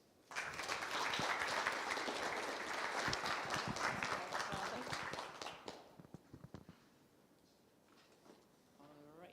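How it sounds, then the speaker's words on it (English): An audience at a festival talk gives a warm round of applause, loud and dense for about six seconds, then thinning to scattered claps and fading. "A warm round of applause."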